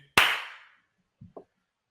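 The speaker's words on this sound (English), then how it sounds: "Some robust claps today, boys." A single sharp, loud clap rings out with a reverberant tail, followed a second later by two faint, short taps in an otherwise quiet room.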